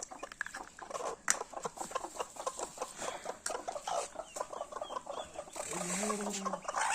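A hen with newly hatched chicks on a village farm gives soft, quiet clucks amid faint scratching and rustling, with a couple of sharper peeps and a low steady tone near the end.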